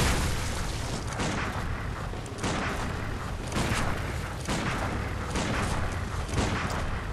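Gunshots in the video game Bloodborne, a few heavy booming blasts spaced about a second apart over a thick, noisy background din.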